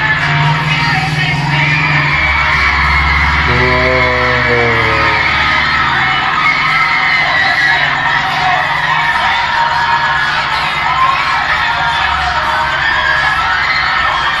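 A concert crowd at a Serendipity Stage encore performance yells and cheers in a steady, loud roar, with a deeper voice bellowing briefly partway through.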